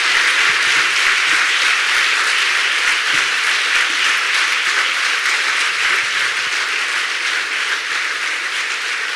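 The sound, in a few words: audience applauding Pilar Rahola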